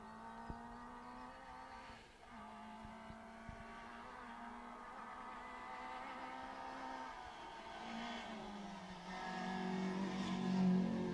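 A Corsa rally car accelerates hard on a special stage of the Argyll Rally in Dunoon, its engine note climbing steadily and getting louder toward the end, heard alone from the roadside.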